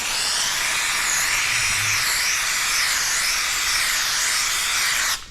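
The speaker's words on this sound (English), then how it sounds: "let's get a little steam on there" A handheld steamer sprays steam onto paint protection film being stretched over a Harley-Davidson side panel cowling, a steady broad hiss running continuously close by until it cuts off at the end.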